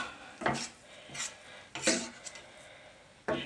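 Flour halva being roasted and stirred in a pan with a wooden spatula, giving a few separate scraping clatters of utensil on cookware at a steady close range with quiet gaps between them.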